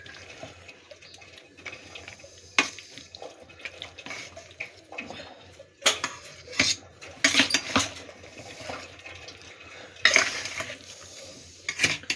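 Mutton stirred with ground spice paste in a pot: scattered metal clanks and scrapes of a spoon against the vessel, irregular and fairly close over a quiet background, no talk.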